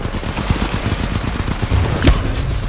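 Rapid smart pistol fire in the shooter game Titanfall, a dense stream of loud, close gunshots in quick succession with a sharper impact near the end.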